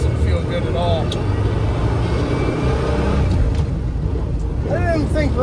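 A 1984 Ford Bronco II trail rig rolling along on radial tires with flat spots from a year of sitting, producing a constant rumbling drone with faint squeaks rising over it.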